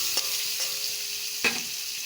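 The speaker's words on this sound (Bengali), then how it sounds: "এখন দিয়ে দেবো যে পেঁয়াজ কুচে রেখেছিলাম ওটা। এটা একটু লাল করে ভেজে নেব।" Chopped onion fries in hot oil in a pan, giving a steady close sizzle with a few sharp stirring clicks and no voices.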